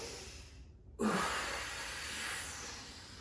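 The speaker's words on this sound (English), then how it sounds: "So what you can do is essentially first perform the exhale." A single strong exhale, breathed out to brace before a deadlift or squat, starts abruptly after a brief silence and continues as a steady, close, breathy rush that slowly eases off.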